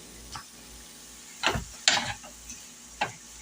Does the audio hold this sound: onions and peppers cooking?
yes